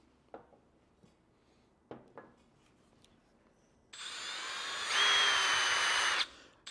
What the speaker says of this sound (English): In some cases, I'll use a drill.